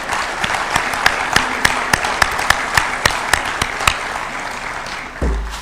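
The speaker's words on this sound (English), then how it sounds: "Let us clap for this man." Sustained clapping from a gathered audience honouring the President of the African Development Bank at a State House event, with sharp individual claps standing out over a steady wash of applause that cuts off abruptly near the end.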